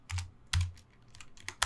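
Code is typed on a computer keyboard in short clusters of crisp, close key clicks with brief pauses between the bursts. No one speaks.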